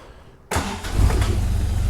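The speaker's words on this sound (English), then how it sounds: "once the key is on and we're sure we're in neutral, we're going to go ahead and push the starter button" A Healey sports car cranks on its starter button and fires, the engine catching with a loud, steady rumble that settles into a strong idle after a brief initial burst.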